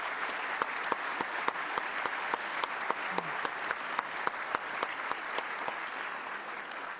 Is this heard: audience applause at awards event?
yes